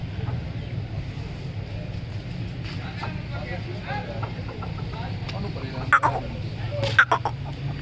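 Aseel chickens cluck over a low engine-like hum, with a couple of sharper squawks near the end.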